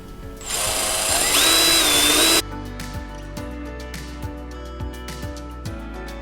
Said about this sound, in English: Kind of scary drilling through the nice fiberglass.